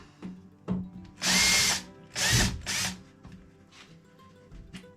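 A power drill backs a Robertson screw out of a wooden workbench, with several short whirring bursts, two of them longer, up close and alone.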